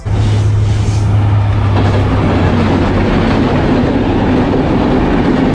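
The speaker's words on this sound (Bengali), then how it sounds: "ঢাকা থেকে খুলনা কিংবা ঢাকা থেকে যশোর রুটে এই ট্রেনটি চলাচল করে।" The Benapole Express intercity train in Bangladesh rolls past loudly and close, a continuous rumble with steady clatter from the carriages that holds all the way through.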